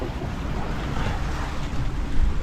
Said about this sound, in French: Là le vent commence à se lever.